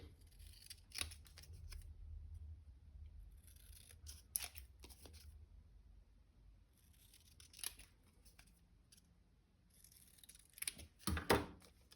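Scissors cut paper diamonds for a card in short bursts of crisp snipping and sliding blades, close and quiet, with pauses between cuts and a louder crinkling snip near the end.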